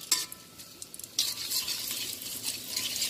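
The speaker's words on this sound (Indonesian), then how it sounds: "ini udah aku panaskan minyak. Masukkan bawang merah" Shallots dropped into hot oil for sautéing burst into a loud sizzle partway through, following a few light clinks, then crackle steadily close by with no talking.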